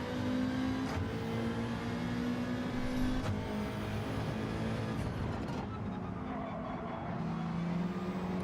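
Racing car in Gran Turismo 7 at the Red Bull Ring, engine droning steadily near and loud with pitch dips and shifts as it slows into corners, no voices over it.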